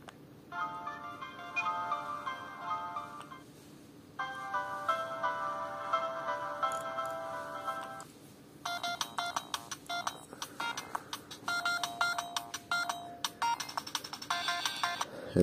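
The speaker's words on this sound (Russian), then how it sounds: "Это, собственно, стандартная тема Siemens и звуки переключения и выключения темы City." Melodic electronic jingles and ringtone tones from a Siemens C72 mobile phone, covering its standard theme and the City theme's switching and shutdown sounds. Several separate bright beeping tunes play one after another, clear and close, with no talking.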